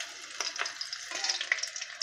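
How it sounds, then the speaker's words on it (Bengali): Garlic frying in hot mustard oil with whole spices for a mutton curry, a quiet close crackle and hiss with small bursts of spattering. "এবার রসুন দিয়ে দিলাম"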